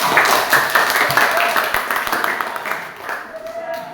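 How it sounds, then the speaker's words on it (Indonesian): Classroom students clapping for their classmates, brisk and fairly close, easing off toward the end as a faint voice comes in. "Mari kita tepuk tangan untuk teman-teman."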